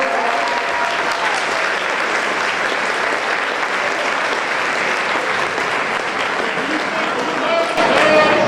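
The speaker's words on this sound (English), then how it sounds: "Give a round of applause." Loud, sustained audience applause fills a school wind symphony spring concert hall, a dense steady roar of many hands clapping that swells slightly near the end.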